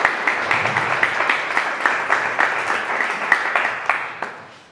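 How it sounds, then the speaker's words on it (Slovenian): An audience claps to welcome three women guests at a live talk event, a steady burst of applause throughout with no voices on top. "En aplavz, prosim."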